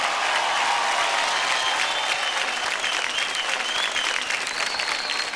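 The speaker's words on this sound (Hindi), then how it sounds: "जोरदार तालियां हो जाए हार्दिक के लिए।" Studio audience at a kids' dance competition show claps hard for Hardik's dance, a sustained, even burst of many hands with faint cheering whistles rising over it, fairly loud throughout.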